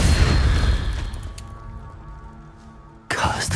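Incendio fire spell cast in Hogwarts Legacy: a loud burst of flame and rumble that fades over a couple of seconds, then a sharp new blast cuts in near the end, with game voices around it.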